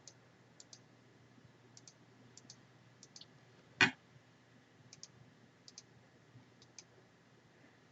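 Light, sparse mouse clicks tick away at an uneven pace while points are set with the pen tool in Photoshop, one sharper knock standing out midway, all close and quiet.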